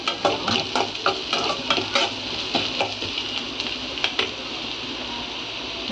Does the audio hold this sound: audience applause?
no